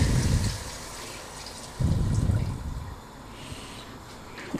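Water poured into a pot of soaked rice while cooking paneer rice, two short low splashing bursts near the mic, the second longer and trailing off into quiet.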